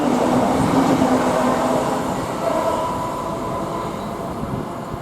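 A Great Western Railway Class 800 train pulls away from Reading station toward London Paddington, its steady engine drone and rolling rumble loud at first and easing gradually, with no one speaking.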